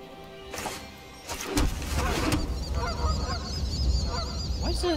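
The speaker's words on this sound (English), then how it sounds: "it sounds like the goose card." Goose honking from the goose card in the MTG Arena card game, a run of repeated nasal honks over a busy, steady game-sound bed that grows louder midway, with no talk.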